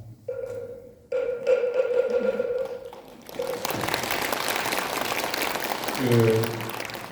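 Clapping from attendees at a Buddhist temple officers' workshop, a steady crowd of hands after a loud tone and a few sharp taps, with voices talking over it near the end.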